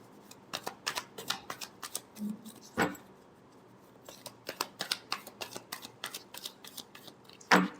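Tarot cards being shuffled by hand, repeated bursts of quick riffling flicks and slaps, close and crisp, with brief pauses between rounds and a final sharp tap, no talking.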